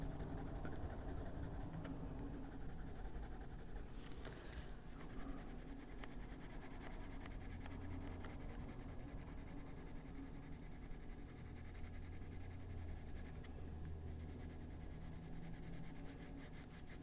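A white colored pencil colors on paper, making a faint, steady scratchy rubbing that runs throughout with small stroke-to-stroke variation.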